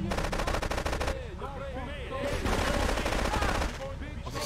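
Rapid, dense gunfire from a shotgun in the game Grand Theft Auto 3: Definitive Edition on Xbox Series, with loud repeated blasts throughout and voices or other game sounds weaving through the middle.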